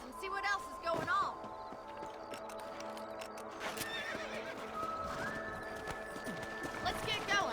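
Horses in the Western game Red Dead Redemption clip-clop at a steady gait, with several sharp whinnies and neighs standing out, while game music plays and a voice speaks over the hoofbeats.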